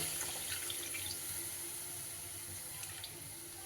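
Water pours steadily into cashew masala in a pan, a continuous splashing stream heard up close with no talk.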